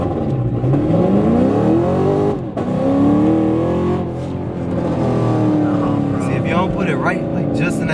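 A 700+ whp Infiniti Q60 accelerates hard from close by, its engine note rising through long sweeping pulls with a brief dip between gears, loud and steady throughout with people talking under it.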